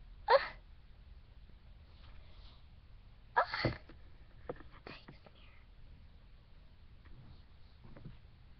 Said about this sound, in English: just that one sneeze.